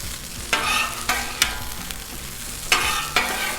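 A chorizo breakfast scramble is mixed with butter and oil on a Blackstone griddle: a steady close sizzle under a handful of sharp scraping strokes from a spatula against the flat-top, with no voices.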